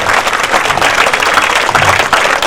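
A crowd of schoolgirls clapping together at a government school event, brisk, loud and continuous for a couple of seconds with no speech.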